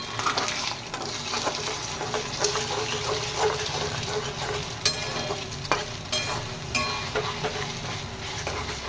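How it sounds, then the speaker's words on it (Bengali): Three eggs frying in a pan for egg tarka, a continuous moderate sizzle with occasional stirring scrapes and clinks, no one speaking. "তিনটে ডিম দিয়েছি, এটাকে ভাজছি।"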